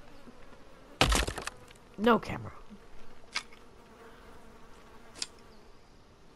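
Flies buzz around flesh in the survival game The Forest, a brief close drone among sharp cracks and breaking thuds, with quieter buzzing passes afterward; a voice speaks briefly.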